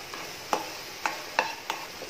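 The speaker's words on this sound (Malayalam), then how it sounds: "ഇനി നമുക്ക് ഈ ഏത്തക്കയായിട്ട് ഇത് മിക്സ് ചെയ്ത് എടുക്കാം" A spoon stirs egg batter with plantain pieces in a bowl for a sweet Kannur breakfast snack, giving four or five soft, separate scraping clinks at an uneven pace, quiet and close.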